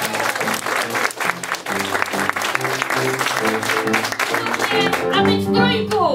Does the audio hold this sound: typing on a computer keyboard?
no